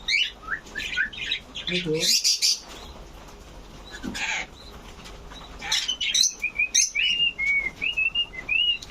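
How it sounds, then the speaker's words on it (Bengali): A tame pet bird, a myna or cockatiel, lets out bright whistles, chirps and squawks in quick repeated bursts alongside wing flaps, close and clear, while a person speaks briefly. "এটা তো শালিক পাখি নাকি?"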